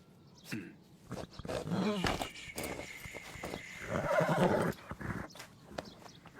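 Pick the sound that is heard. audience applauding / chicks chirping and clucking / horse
horse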